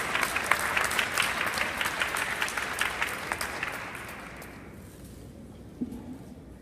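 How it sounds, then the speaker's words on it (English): An audience at a monologue stage performance claps loudly and steadily, then the applause thins and fades out to near silence, with a faint thump near the end. "Give them a round of applause as they prepare to come."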